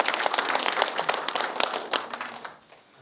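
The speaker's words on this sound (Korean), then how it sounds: "희망의 박수를 한번 보내주십니다." An audience at a county meeting applauds the provincial governor with steady, dense clapping that fades out toward the end.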